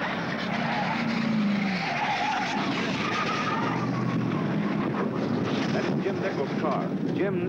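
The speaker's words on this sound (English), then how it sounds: "The front end of it has skidded all the way down to the runout area" Front end of a top fuel dragster sawed in half in a crash at the 1969 NHRA Nationals, skidding down the strip toward the runout area; a loud, continuous scraping roar with wind noise, steady for the whole stretch, and speech faintly mixed in.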